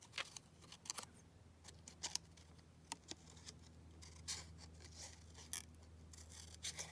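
Scissors snip through a 12 x 12 paper collage sheet in a run of quiet, crisp cuts, irregularly spaced over a low steady background hum, with no talking.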